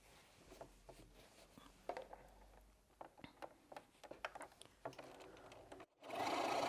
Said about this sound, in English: I'm going to sew right the way down both sides